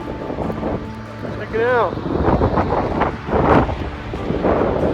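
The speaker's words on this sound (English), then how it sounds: "Very, very windy though." Strong wind buffeting the microphone outdoors along an adventure route, a loud, rumbling, gusting roar that swells and fades, with a person talking briefly over it.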